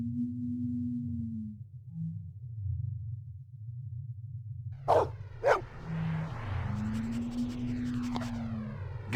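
A pet dog named Maggie, in a Blade Runner video game scene, gives two sharp barks midway, followed by a softer yip, over a low steady hum.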